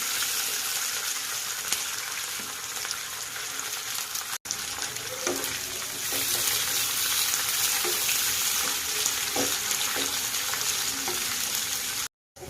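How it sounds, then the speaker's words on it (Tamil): Onions, green chillies and curry leaves fry in oil for tomato rice, with a steady close sizzle that runs throughout and the occasional clink of a stirring spoon. "வெங்காயம் நல்லா வதங்கி வந்துடுச்சு"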